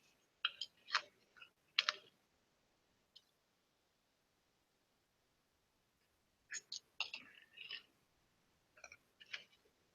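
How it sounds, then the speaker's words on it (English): Two short bursts of quick, light clicking like typing on a keyboard, separated by several seconds of near silence. "I could hear you typing, Jake"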